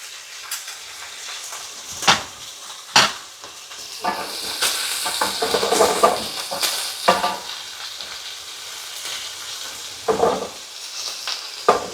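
Shrimp frying in butter in a pan for cheesy shrimp Alfredo pasta, a steady close sizzle punctuated by several sharp clacks of a utensil stirring and scraping the pan, no talking.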